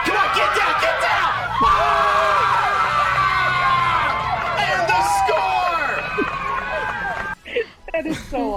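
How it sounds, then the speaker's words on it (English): Crowd whooping and cheering at a baseball game, a dense wash of yells and excited voices rising and falling for several seconds before dropping to scattered shouts near the end. "the crowd goes wild"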